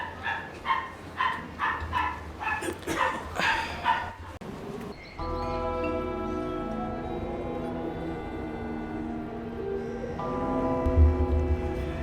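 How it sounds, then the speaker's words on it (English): Dogs barking in the Syberia 3 video game, a run of sharp repeated barks followed by a sustained musical tone with a low rumble. "And of course, there goes the dogs."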